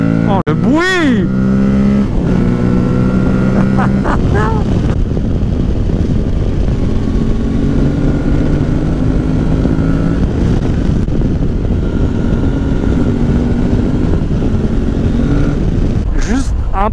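An adventure trail motorcycle engine pulls hard under acceleration, loud and close with a steady roar and rising pitch through the gears, a rider's voice briefly heard at the start.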